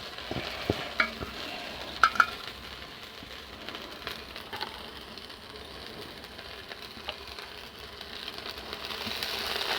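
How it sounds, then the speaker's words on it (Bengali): Ground-lentil fritters frying in oil in a wok over a low flame, giving a steady, close sizzle with a few faint clicks of stirring and no voices. "আমি হালকা হালকা জ্বালন দিয়ে ডালের বড়াটাকে ভাজা করছি"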